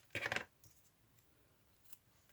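Scissors snip quickly through paper craft tags, a brief crisp cluster of cuts up close, followed by quiet with a faint small click later.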